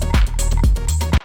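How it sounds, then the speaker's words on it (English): A bright, very digital synth tone with a heavy low end sounds up close, pulsing in three loud swells with a buzzy harmonic edge before cutting off sharply. "But it's also very digital. I mean, it is like a synth sound."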